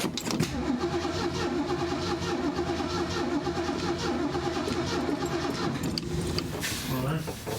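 A Ford Mustang Mach 1 engine cranks and turns over, a continuous churning rumble that catches and runs throughout, with a voice talking briefly near the end.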